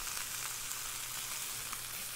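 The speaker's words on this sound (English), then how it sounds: "if it wasn't sizzling like that, it wouldn't be hot enough" Beef short ribs searing in a hot pan give a steady, close sizzle, an even hiss of frying fat that runs unbroken with no voices.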